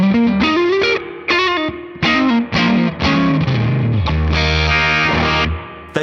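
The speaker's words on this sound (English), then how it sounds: "Oh, and the amp, when you crank it, it distorts as well, like it would." Electric guitar through a cranked Neural DSP Princeton amp model, breaking up into distortion. Loud, close strummed chords and bends play in bursts, ending on a long sustained chord that fades out.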